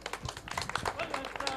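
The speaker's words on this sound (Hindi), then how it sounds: "जोरदार तालियां" Applause from an audience at a Hindi-language devotional award ceremony honoring Shahzade Sai Omiram, with scattered claps rising under a voice that keeps talking throughout.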